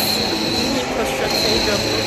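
A train carries a steady, loud, broadband rumble with a faint high squeal from the wheels on the rails. The noise is continuous throughout with no clear clicks or breaks.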